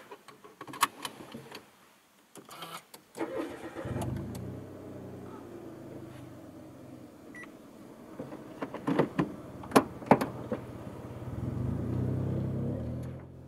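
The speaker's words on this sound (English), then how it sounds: "let's take the Mirage GS for a quick test drive" A 2013 Mitsubishi Mirage GS starting up for a test drive: door and cabin clunks and a beep, then the small engine catches and settles into a steady hum, with a few louder knocks and a rise in engine noise toward the end.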